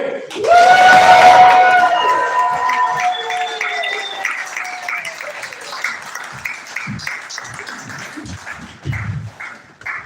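An improv theatre audience erupts in loud cheers and whoops that gradually fade, with scattered clapping and shouts continuing as the noise dies down.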